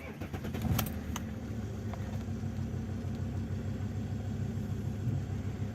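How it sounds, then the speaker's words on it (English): An Alfa Romeo 166 engine turns over and settles into a steady low idle, with a faint jingle of keys near the start. "So just start up the car."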